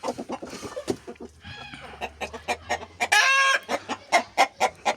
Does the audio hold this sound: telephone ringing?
no